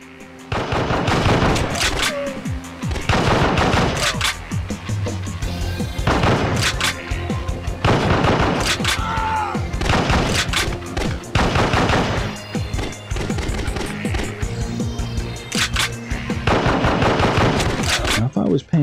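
Light-gun shooting in the PlayStation 2 game Endgame, played with a G-Con 2, brings loud, dense bursts of rapid game gunfire with booms, packed nearly back to back and filling the whole stretch.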